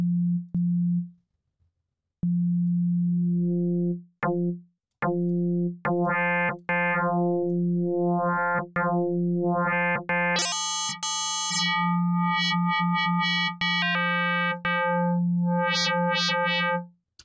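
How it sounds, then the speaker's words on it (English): An FM synthesizer in Ableton Operator holds a steady tone whose harmonics are swept in and out, making the timbre grow brighter and buzzier then thin out again, with bright chirping overtones rising and falling. The synth plays alone, loud and close. "You can hear that we're changing the amount of harmonic information, just like a filter would do."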